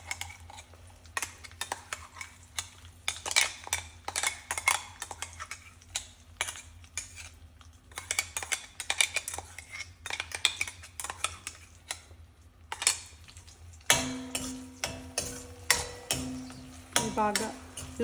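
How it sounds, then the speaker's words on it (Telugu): Ginger garlic paste fries in a pan on a low flame while it is stirred, making close clinks, scrapes and a soft sizzle. The sizzle grows louder and denser near the end. "బాగా లో ఫ్లేమ్లోనే వేయించుకుందామండి, లేకపోతే అడుగంటిపోతుంది."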